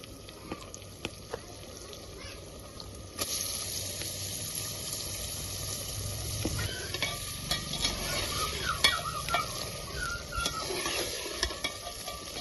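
About 500 g of meat is added to ready biryani masala and cooks with a steady sizzle and stirring scrapes, growing louder and denser after the first few seconds, with no talking.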